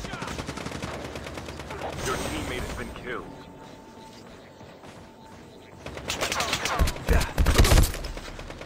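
Shotgun blasts in the Call of Duty video game boom in a quick cluster of loud, sharp shots near the end, after quieter game sounds and voices.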